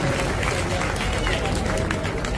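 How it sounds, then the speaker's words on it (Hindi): Audience applause at a Hindi-language public event on loans for women fills the space as a dense, steady wash of clapping from a crowd, with voices murmuring underneath. "जोरदार तालियों से सम्मान करें।"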